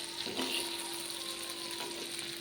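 Fish pieces fry slowly in a pan of oil, giving a soft, steady sizzle close by with a faint tonal hum and a couple of light stirring touches.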